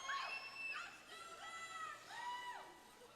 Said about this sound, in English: I hear Platinum Punch in the house, cheering for Stoner.